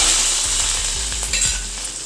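A fried tempering is stirred into a pan of cooking gongura and prawns, giving loud, steady sizzling with rhythmic scraping of a spoon against the pan.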